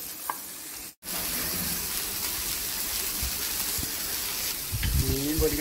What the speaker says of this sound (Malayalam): ഇത് വലിയ മീനാണ് അപ്പോൾ ഉള്ളൊക്കെ ഒന്ന് വേണമെങ്കിൽ ചെറിയ തീയിൽ കുറച്ച് നേരം ഒന്ന് ഫ്രൈ ചെയ്തെടുക്കാം.